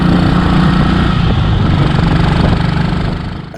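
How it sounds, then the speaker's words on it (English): A 1960 Matchless G12 CSR competition sprung roadster motorcycle revs hard, its loud, close engine and exhaust roaring steadily with crackling texture, then easing off slightly at the end. "Malcolm, the rider just ahead of me, is riding a matchless G12 CSR competition sprung roadster from 1960. And when he gives it the beans, there's a certain amount of snap"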